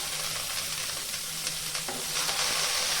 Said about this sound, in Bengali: পেঁয়াজ, রসুন, আদা, লঙ্কা, রসুন সব ভালো করে ভেজে নিয়েছি।